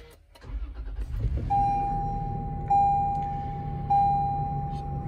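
A 2020 Toyota Land Cruiser Heritage Edition or 4Runner TRD Pro SUV with TRD cat-back exhaust fired by push-button start: a brief starter crank, then a steady idle under three loud, repeating chime tones, with no talking.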